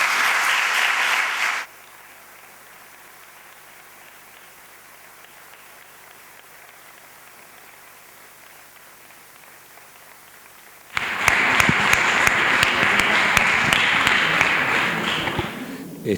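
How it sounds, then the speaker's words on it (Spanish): Audience applause in a church after a lecture, a loud burst that cuts off abruptly, followed by near silence, then a second strong wave of clapping that resumes and carries to the end. "Este aplauso, Antonio,"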